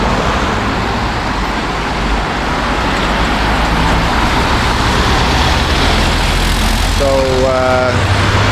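Steady, dense roar of street traffic in Bucharest, cars and buses rumbling continuously at close range, with a brief tonal horn-like sound near the end.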